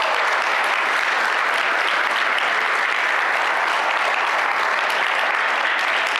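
A church congregation at a tenth anniversary service applauds loudly and without a break, a dense, even wash of many hands clapping.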